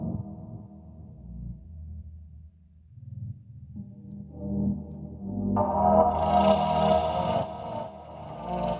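A Glaze 2 synth sequencer plays with its filter cutoff direction reversed, low droning tones that gradually brighten and swell, then fall back, with an echoing, evolving texture and no talking.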